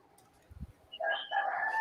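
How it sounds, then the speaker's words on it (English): A rooster crows at night out over the area, a fairly loud call that rises after a short thump and carries on for about a second. "Hey, Cookie, I hear a cock going off over there."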